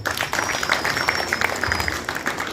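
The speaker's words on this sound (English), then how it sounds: "they deserve a very huge hand clap." Audience at a national primary schools music festival gives a hearty round of hand clapping, distinct individual claps forming a steady rhythmic patter, fairly close and continuous, with a faint high tone running beneath.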